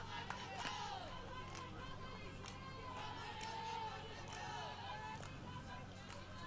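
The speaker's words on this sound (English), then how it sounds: "Crowd starting to funnel in here at TC Colorado Field" A crowd gathers at a softball field during a college game, with a broad, moderately distant murmur of chatter, scattered calls and shouts, and occasional sharper sounds rising over the steady babble.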